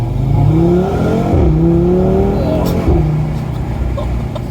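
Car engine pulling under acceleration, its rising note climbing steadily and loud inside the cabin, while people talk over it.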